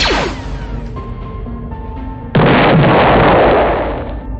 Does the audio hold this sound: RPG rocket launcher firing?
yes